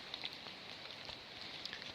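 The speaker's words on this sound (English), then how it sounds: "It's almost more hail than snow, but it's not really big or really hard" Small hail mixed with snow falling on a Rocky Mountain trail, a faint, steady patter of light pellets with scattered soft ticks, no voices.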